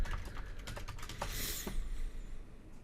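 Quick irregular key taps on a computer keyboard as a password is typed, close and fairly faint, about a dozen clicks in under three seconds with no talk.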